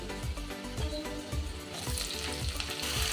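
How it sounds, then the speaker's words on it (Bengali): Ridge gourd pieces added to hot oil with fried potatoes fry in a pan over a high flame, giving a steady close sizzle with rhythmic stirring scrapes and no voices. "ঝিঙেটা ভাজবো, না হলে ঝিঙে গলে একদম আর কিছু থাকবে না।"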